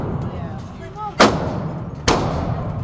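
Two loud gunshots at an outdoor shooting range, sharp close bangs about a second apart, each trailing off in a brief echo over quiet background.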